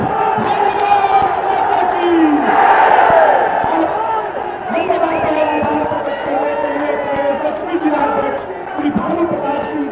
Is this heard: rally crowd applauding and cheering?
yes